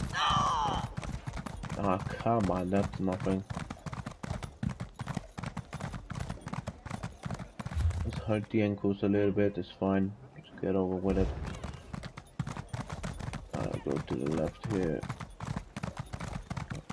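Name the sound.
horse hooves galloping in video game The Elder Scrolls Online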